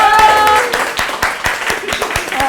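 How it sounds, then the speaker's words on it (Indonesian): Scattered hand claps from a small audience at the close of a communication audit session, with a sustained tone and some background voices early on, the claps rather sparse and uneven. "tepuk tangan untuk kita semua"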